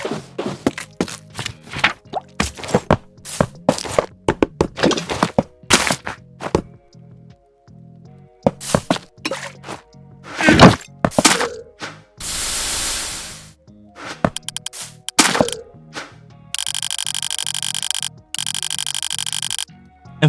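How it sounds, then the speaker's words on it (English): Minecraft inventory sounds from the ExtraSounds mod as items are picked up and moved between slots: a rapid series of short clicks, plops and thunks, some bursts of static-like noise, and a steady tone near the end, with no talk. "ExtraSounds adds sounds when you're picking up or moving items to and from your inventories."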